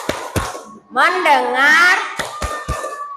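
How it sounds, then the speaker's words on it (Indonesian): A class of children does a rhythmic focus clapping routine, a few sharp group claps ringing out between stretches of a teacher and kids chanting. "sekarang kita tepuk fokus dulu ya"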